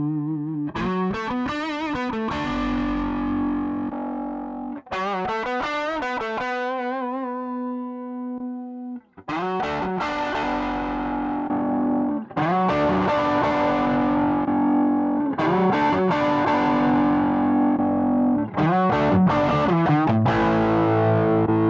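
Electric guitar played through a Zoom GFX 707 multi-effects unit on its full stack amp model, ringing out heavily distorted chords and riffs in several bursts with sustained notes, loud and close, with no talking.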